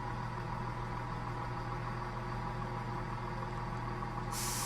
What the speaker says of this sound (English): The brakes have just come off again.